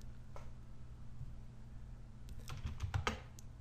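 Keystrokes on a computer keyboard while entering a Linux apt-get install command, a quick cluster of close clicks ending with a firmer Enter press, over a steady low hum.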